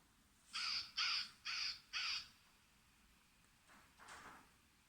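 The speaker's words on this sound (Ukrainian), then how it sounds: "Так, це каркає ворона." A crow caws four times in a quick, even series, loud and close, followed by two fainter calls.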